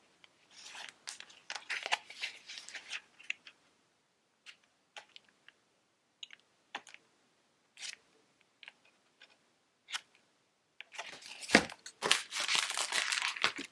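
Decorative paper for Halloween candy bar treat packs is handled close up, with sporadic crinkles, rustles and tearing-like snaps, then a denser burst of crumpling near the end; no one speaks.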